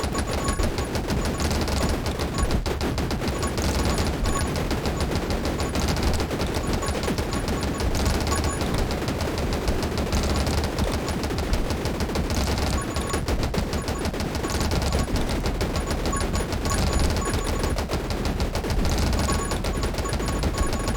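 Dense, continuous video game gunfire fills the whole stretch, with rapid overlapping shots and bursts forming a steady barrage under no talk, loud and unbroken throughout.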